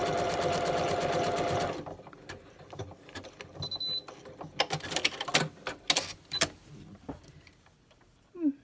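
Sewing machine stitching two buttonholes in a row: a steady, fast, loud whirring run at first, then a stretch of irregular stitching bursts and clicks, close by.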